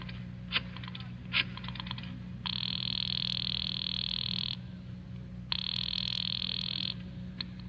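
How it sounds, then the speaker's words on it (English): Telephone call being placed in a 1943 radio mystery drama: a few faint clicks followed by two long, steady ringing tones separated by a pause, heard alone over a low hum. "I decided to phone him."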